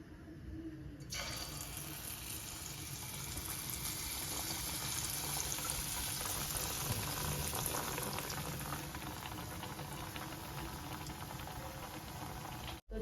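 Malpua batter deep-frying in hot oil, a steady, even bubbling sizzle that carries on unbroken for several seconds at moderate volume, with no talk.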